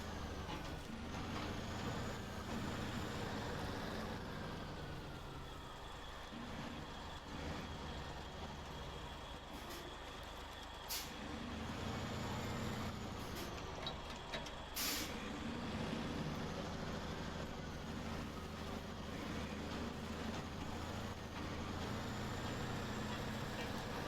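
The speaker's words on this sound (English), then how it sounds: "Dragging the trailer along the guardrail." A heavy truck in SnowRunner's Maine region grinds its trailer along a guardrail, a steady engine roar with scraping and air-brake hisses running throughout, loud and continuous with a few sharp metallic clanks.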